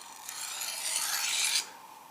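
Knife edge stroked very lightly across a coarse 36 grit dressing stone while setting a micro bevel, a single soft, hissing rasp lasting about a second and a half, close and steady, then fading to quiet.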